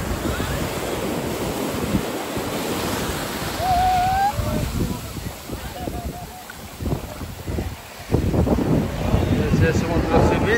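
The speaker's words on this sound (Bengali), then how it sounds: "সমুদ্র সি বিচ" Sea waves washing onto the beach at Diu, a loud continuous surf roar with wind buffeting the microphone, brief whistle-like tones, and people talking nearby.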